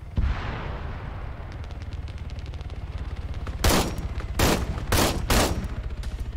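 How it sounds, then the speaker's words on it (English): Shotgun blasts in the military shooter game ArmA 3: after a quiet stretch, four or five loud, close booming shots fire in quick, slightly irregular succession, each with a short echoing tail. "I'm gonna try to shotgun one of them"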